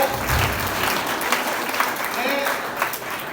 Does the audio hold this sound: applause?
yes